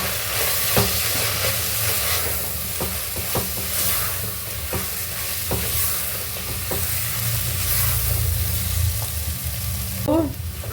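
Spices for potato biryani sizzle and fry in a pan with a steady hiss, as a utensil stirs and scrapes them with scattered taps close by.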